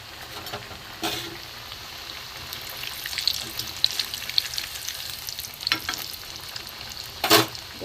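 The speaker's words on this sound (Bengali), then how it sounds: "গ্যাসটা কমিয়ে কমিয়ে ভাজতে হবে" Gobindobhog rice pitha fries in oil over a low gas flame, a steady close sizzle with bubbling crackles, occasional sharper pops and a few spatula clinks, no talking.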